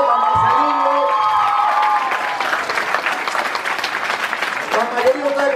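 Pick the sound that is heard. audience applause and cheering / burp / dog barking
audience applause and cheering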